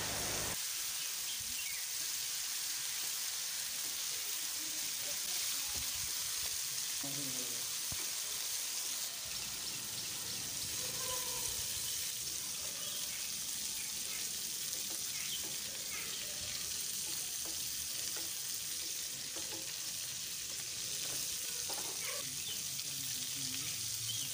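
Potato leaves and dry fish are stirred together in a hot pan, giving a steady close sizzle throughout with soft scraping stir sounds scattered over it and no talking.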